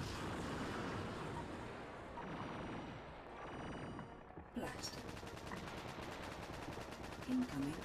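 Continuous rattling gunfire and dull artillery blasts from the Battle Engine Aquila video game, dense and steady throughout a beach assault battle, with no clear talk.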